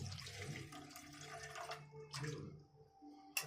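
Two bowls of water are poured into a pot to make sugar syrup for homemade sweets, a quiet splashing pour in short bursts that ends with a brief clink.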